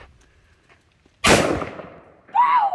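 A single loud, close gunshot cracks out after a near-silent pause and decays over about a second, followed by a short excited voice.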